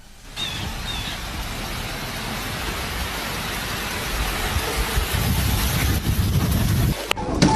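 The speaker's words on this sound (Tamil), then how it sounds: "திடீர் வானிலை மாற்றத்தால் மழை பொழிகிறது" Sudden rain falls on a road in a steady, dense hiss that holds for several seconds and grows slightly heavier toward the end, with no voices.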